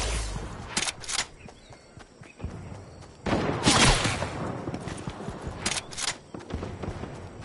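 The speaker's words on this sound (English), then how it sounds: "Whoa! I'm getting shot at." Bursts of Fortnite gunfire crack out in a hilltop fight, several separate volleys spaced a few seconds apart, loud and close with game ambience between them.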